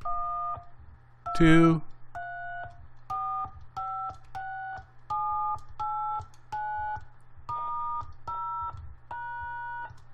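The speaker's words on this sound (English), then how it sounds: "So we'll enter some tones on the keypad, and we'll watch the software decode those tones." Two-tone DTMF keypad beeps from a hardware encoder feeding an MT8870 decoder, a dozen or so short steady tones in an even sequence, each pair of pitches clear, with one louder burst of noise early and a voice briefly speaking.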